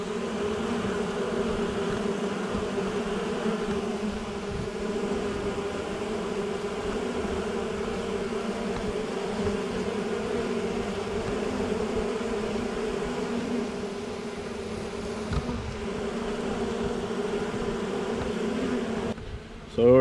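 A swarm of honey bees produces a continuous, even buzzing drone that stays close and fairly loud for the whole stretch, with no voices over it.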